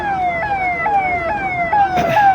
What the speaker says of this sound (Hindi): ये सायरन, ये एम्बुलेंस का है